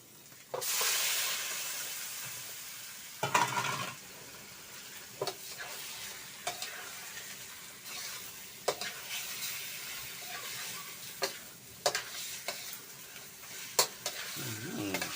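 Washed, salt-scrubbed catfish go into a cooking pot for a catfish curry, followed by steady stirring with sizzling and scraping, brief louder clatters recurring throughout, no speech.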